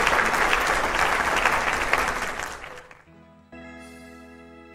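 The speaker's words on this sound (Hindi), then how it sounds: "एक जोरदार ताली होनी चाहिए आप पीछे लोगों की तरफ से।" Audience applause at a Bollywood film production stage event, a loud burst of many clapping hands that fades out after about three seconds, followed by a sustained musical tone.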